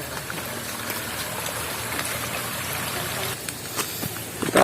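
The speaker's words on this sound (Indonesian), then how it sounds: "Kita lewati sungai kecil." A small stream on a trekking path toward a waterfall, water trickling and gurgling steadily nearby, with a few sharper splashes and knocks near the end.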